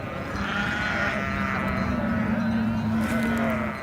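Goats in the desert, kept apart from camels, bleat in a long, wavering, nasal call over a steady windy, rumbling background, fairly close and continuous for several seconds.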